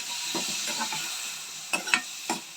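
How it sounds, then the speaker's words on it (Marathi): Jackfruit pieces being stirred in a frying pan over a soft continuous sizzle, with a few distinct spoon scrapes and knocks toward the end. "आपण आता यामध्ये फणस टाकला आहे त्याला छान फिरवून घेऊया"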